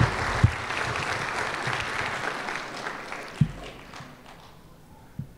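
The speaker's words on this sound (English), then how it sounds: "Let's give them a round of applause." An audience at a high school graduation ceremony applauds the staff, with steady, fairly even clapping that gradually fades away over about five seconds, and a few low knocks scattered through it.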